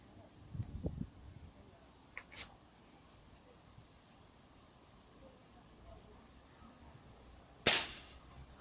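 A gun fired at a target gives one loud, sharp crack near the end, after a mostly quiet outdoor stretch broken by a couple of faint knocks and ticks.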